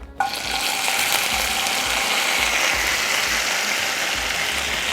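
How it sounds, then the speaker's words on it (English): Frozen okra dropped into hot grease in a pot, bursting into a loud, steady, crackling sizzle that continues without pause, with no talking. "I'm going to get these frozen okra, and I'm just going to very carefully, so that you don't burn yourself,"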